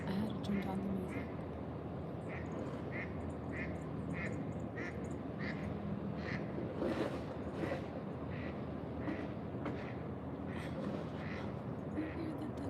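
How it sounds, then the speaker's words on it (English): Several ducks swimming outdoors during a snowstorm give repeated nearby quacks over steady wind and background noise, with a person talking over them. "You hear the duckies?"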